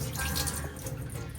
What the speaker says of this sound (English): Drain off the water with a sieve.